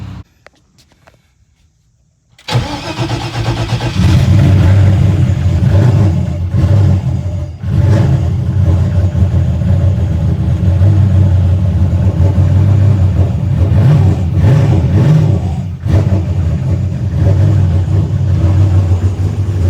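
A Ford engine in a rare Mustang cranks and fires after a short silence, then runs loud and close with a steady rumble and a few rising revs, with no talking.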